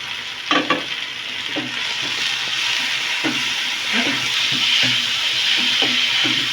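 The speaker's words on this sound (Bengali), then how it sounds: "দিয়ে ভালো করে ভেজে নেব।" Chopped tomato and a stuffing paste of bitter gourd seeds, ginger and garlic frying in a pan, a continuous close sizzle with repeated scraping stirs of a spatula at irregular intervals, no talking.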